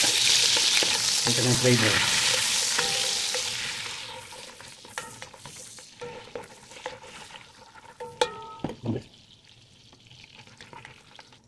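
Butter sizzles loudly in a pan with chicken gizzards, a bright crackling hiss that fades over several seconds into quieter popping, scraping and utensil taps, with a brief voice speaking near the end.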